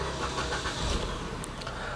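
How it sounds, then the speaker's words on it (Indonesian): A used 2012 Suzuki Ertiga GL car's engine turns over and catches, giving a brief broadband rumble close by that settles into a steady running hum, with no talking. "Saya akan nyalakan mesinnya."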